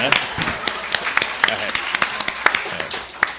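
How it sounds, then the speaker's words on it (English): A small congregation at a Buddhist Gotan-e service claps to welcome guests, scattered individual handclaps in an uneven, sparse rhythm, close by and moderately loud, with speech mixed in. "let's give them a round of applause for coming in"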